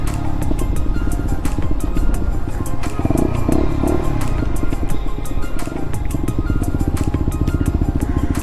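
A motorcycle ridden in freezing winter weather, heard from the rider's position: a loud, close engine drone with constant wind rush and rattle that never lets up.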